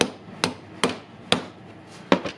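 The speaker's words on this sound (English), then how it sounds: "so I will hammer it a little bit stronger" A hammer strikes the spring ring on Makita HR2470 rotary hammer drill parts: five or six sharp, separate metallic knocks at irregular intervals, close and moderately loud in a quiet room.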